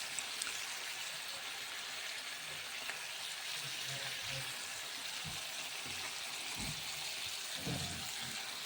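Onions and capsicum sizzle in a hot pan while a home cook prepares chilli chicken, a steady, fairly loud frying hiss running throughout with a few soft stirring knocks near the end.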